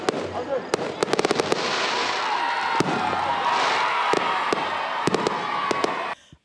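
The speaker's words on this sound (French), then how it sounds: "Le feu d'artifice illumine le ciel d'Odiéné" New Year fireworks over Odienné at midnight, a dense crackling wash with sharp bangs, rapid clusters of loud reports early on, then scattered single blasts over steady crowd noise and distant voices.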